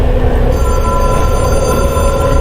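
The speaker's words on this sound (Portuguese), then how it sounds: "Finalmente vou atender o telefone" Telephone ringing in the video game Control, a steady, loud electronic ring tone sustained throughout over a low background hum, with no voices.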